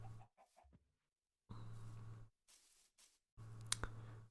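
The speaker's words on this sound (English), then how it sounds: "Chicken" Minecraft chickens clucking in short repeated bursts, three louder clusters separated by gaps and a few softer clucks, fairly close, with no talk over them.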